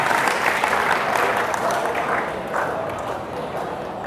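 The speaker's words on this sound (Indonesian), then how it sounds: "silakan tepuk tangan buat teman kalian duduk" An audience claps steadily at a seminar-style event, a dense, sustained round of applause from a crowd that slowly tapers slightly in loudness, with a faint voice beneath it.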